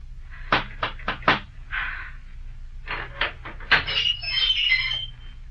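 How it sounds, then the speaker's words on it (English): Someone knocks on a door in a dramatized audio adaptation of Sir Walter Scott's The Heart of Midlothian. Four quick, sharp raps come close together, followed by a few more scattered knocks and some light rustling in a quiet room. "Who's so bold as to knock here?"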